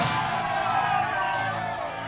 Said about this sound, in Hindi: इतनी सारी जनता की भीड़